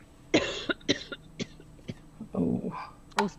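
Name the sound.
cough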